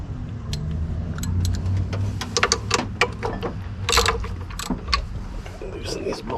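A 15 mm wrench loosening the alternator bolts on a K1500 during a 140 amp alternator upgrade gives a run of close metallic ratchet clicks and clanks over a steady background hum, with no talk.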